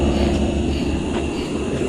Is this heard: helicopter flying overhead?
yes